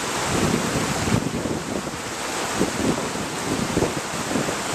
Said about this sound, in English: And it's a bit windy too.